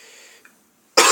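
One abrupt, forceful cough from someone with a sore throat and a mild cold, close and loud, breaking a near-silent pause.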